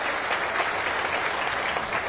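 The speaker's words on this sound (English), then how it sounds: "Let's give Mr. Jim a round of applause" Outdoor crowd applause for Mr. Jim at a store groundbreaking ceremony, dense steady clapping at an even level throughout.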